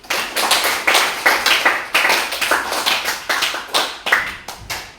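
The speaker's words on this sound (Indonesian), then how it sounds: "Ya, tepuk tangan dulu" A small audience at an Islamic religious education session claps in distinct, fairly loud bursts of rhythmic hand claps, close and uneven, repeating for about five seconds.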